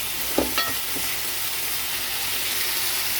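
Malabar spinach (pui shak) cooks with lentil dumplings in a pan, giving a steady close sizzle with a few brief stirring scrapes near the start.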